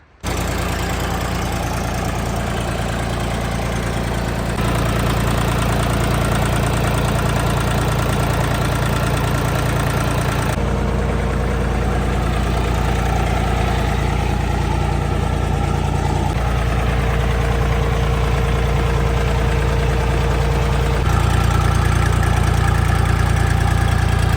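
A Kentavr 244 SD mini tractor's small diesel engine idles steadily and loudly with a low, even rumble and slight knocking, running continuously without pauses.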